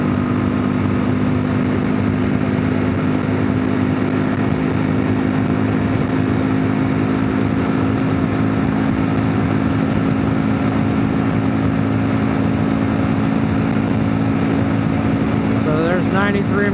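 The engine of a 2022 Kawasaki KLR650 Adventure fitted with a 16-tooth front sprocket, running hard at high speed on the road, a loud, constant single-cylinder drone with wind rush throughout, and a voice briefly speaking near the end.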